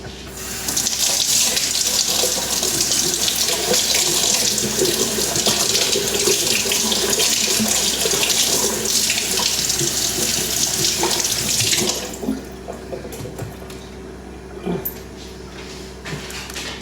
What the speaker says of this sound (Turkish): Bir yıkayayım ben bunu o zaman.